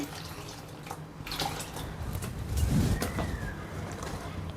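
Water is poured into ground coconut with fennel for coconut milk, running and splashing steadily for a few seconds, close by, with a brief louder gush midway and no talking.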